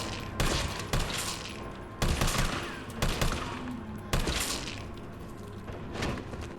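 Bursts of automatic gunfire in Resident Evil 3 (2020), several rapid volleys punctuated by sharp thumps, loud and close with brief pauses between strings of shots.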